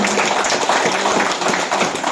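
A crowd of retirees applauds at an outdoor cycling-club gathering, dense steady clapping that fills the moment alongside some mixed voices.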